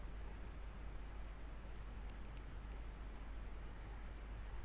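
Faint computer mouse clicks tick lightly in short scattered bursts over a steady background hum, with no voices.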